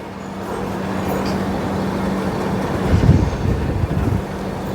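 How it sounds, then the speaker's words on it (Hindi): A train pulls out of Kulem station on the Dudhsagar ghat route, giving a steady low rumble with a faint hum and wind buffeting, swelling louder around the middle of the stretch. "फाइनली ट्रेन कुलेम से निकल चुकी है।"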